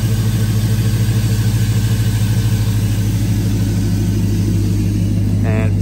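An LS-swapped C10 pickup truck with straight-pipe exhaust through headers and Flowmasters idles close by, a loud, steady, throbbing low rumble with an even pulse throughout.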